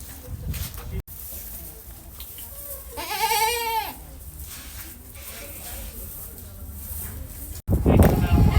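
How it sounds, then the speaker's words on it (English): Goats bleat on a family goat farm, with one clear wavering bleat standing out near the middle against a busy farmyard background of voices and movement, followed by a louder rustle at the end. "See some more boy goats"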